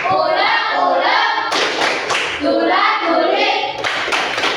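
A school class performs the 'tepuk sambal' clapping chant, children's voices chanting in bursts with hand claps mixed in, loud and close, two rounds separated by short pauses.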